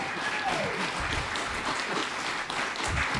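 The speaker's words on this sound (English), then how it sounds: "Let's give a nice round of applause." An audience claps for an evening panel discussion, giving steady, dense applause throughout with no break.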